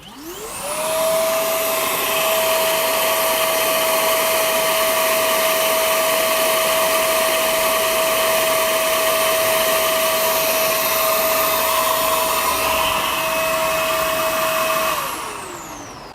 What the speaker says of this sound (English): let's hook up the vac